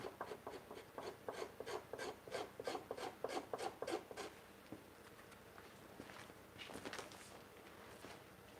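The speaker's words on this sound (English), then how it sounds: "This buckskin is actually starting to feel kind of nice right here in my hand as I'm scraping it against this beam." Buckskin hide is scraped back and forth against a wooden beam in a workshop, making a rhythmic rasping stroke sound that is faint and close, regular at first, then looser and intermittent over low room noise.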